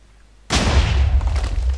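Cannon firing in Minecraft: a single sudden boom bursts in after half a second of near silence, then a loud, rumbling blast tail carries on to the end.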